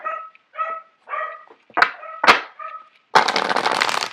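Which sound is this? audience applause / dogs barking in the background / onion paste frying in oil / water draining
dogs barking in the background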